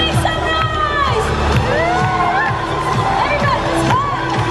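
A dense crowd cheers, shouts and whoops continuously at a street show by a performance truck at Universal Studios Singapore, with children's shrieks and babble mixed in over steady pulsing music, loud and close throughout.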